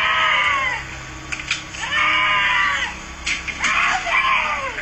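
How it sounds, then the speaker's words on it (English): A woman screams for help in a played clip, giving several long, loud, wavering cries in a row over a steady background hiss. "A woman screams out for help as she seemingly walks calmly down the street"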